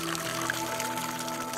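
Water pours into a pitcher in the adventure game Otherworld: Spring of Shadows, a steady filling trickle against a tonal musical background, moderately loud and continuous, with no talk.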